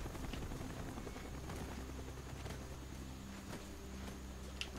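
Call of Duty Black Ops helicopter: a steady broadband rotor roar with a dense, rumbling texture, continuous and fairly loud throughout, under a busy combat backdrop with no talking.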